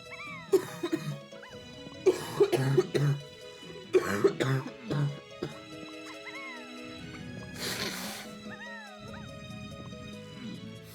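Several rough coughs and throat clearing come in clusters over the first few seconds, close to the microphone, over quiet electronic game music.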